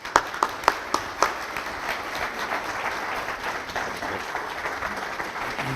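Audience at Stanford breaking into sustained applause to welcome Anders Fogh Rasmussen, a few sharp early claps swelling into a steady wash of clapping from a large crowd that carries on to the end.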